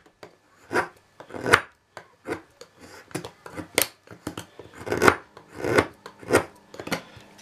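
A Cold Steel Broken Skull knife with CTS-XHP steel cuts into an oak board, producing a series of sharp, close scraping and chopping strokes in an irregular rhythm, with no speech.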